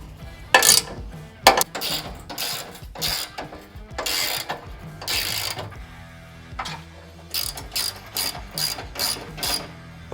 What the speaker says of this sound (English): then you're going to tighten down the mounts to the frame